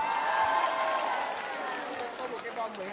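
A large outdoor crowd claps and cheers in a steady, dense wash of applause welcoming a singer back onto the stage at a remix concert, with crowd noise continuing throughout.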